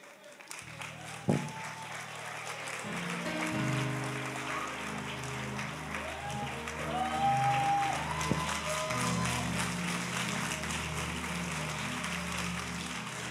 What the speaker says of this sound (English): Now watch how many people start clapping now.